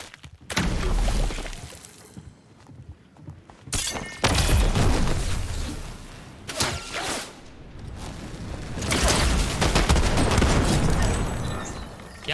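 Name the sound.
sniper rifle gunfire in the video game Fortnite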